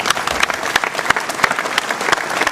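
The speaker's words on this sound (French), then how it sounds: "je crois qu'on peut les applaudir" Audience applause after a mayor's New Year address, a dense, steady burst of many hands clapping close and loud with no voices over it.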